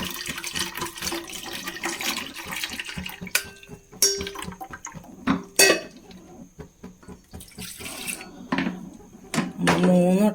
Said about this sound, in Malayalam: ഒന്നും കൂടി ഒരു വട്ടം കൂടി ഒന്ന് അരിച്ച് ഒഴിക്കണം.